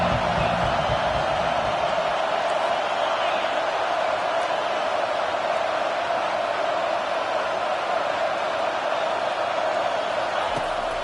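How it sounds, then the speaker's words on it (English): A big football stadium crowd at a college game roars steadily and loudly as the home defense lines up on third down, a dense wall of noise without any break. "Decibels rising as the crowd gets behind this defense on third down."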